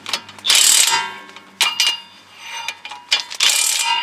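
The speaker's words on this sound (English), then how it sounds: "Gotta be careful, this is a pretty powerful impact." An impact wrench tightens wheel hub bolts on a 2008 Nissan Armada, with several loud, close bursts of rapid hammering separated by brief pauses and lighter clicks.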